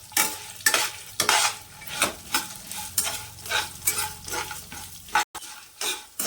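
Whole spices (black cardamom, star anise, mace) and two lumps of asafoetida are dry roasted in a pan, stirred with steady, rhythmic scraping strokes about twice a second, close and fairly loud, with a brief pause near the end and no talking.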